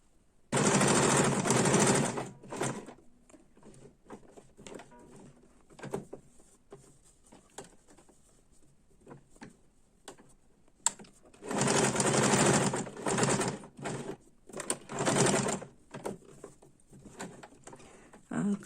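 A sewing machine stitches pieces of a handmade fabric ball together, running in two loud bursts of rapid, even stitching with quieter handling noises and pauses in between.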